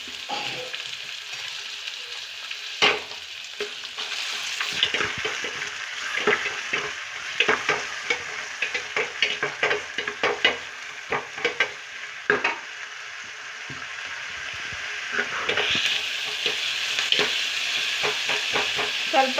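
Half a tomato fries for an egg fry in a hot pan, giving a continuous crackling sizzle broken by frequent sharp scrapes and taps of the spoon as it is stirred, close and steady throughout.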